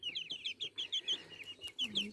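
A small, visually impaired Pekin bantam rooster gives a quick run of soft, high clucks, about a dozen short chirpy notes in rapid succession. They sound close but fairly quiet, in an otherwise calm indoor setting.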